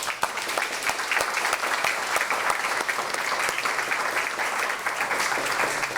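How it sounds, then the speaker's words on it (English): A full crowd at a county auditor/treasurer candidate forum applauds steadily, a dense, even wash of many clapping hands heard at a moderate distance with no voices on top. "We had 4 very good candidates here, so a round of applause, please."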